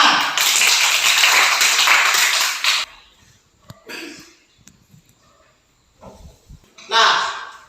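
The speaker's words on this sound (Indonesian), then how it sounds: "Bagus, tepuk tangan." Students in a classroom burst into loud, dense hand clapping for a few seconds, then it breaks off into quiet room noise with scattered taps and a brief second flurry of claps near the end.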